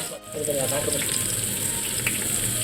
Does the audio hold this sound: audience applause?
no